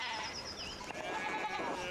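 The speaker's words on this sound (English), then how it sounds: "one of the fence rails fell and the sheep started hopping it." Sheep bleat in the medieval farm setting of the video game Pentiment, a few wavering calls over a busy, steady background of game ambience.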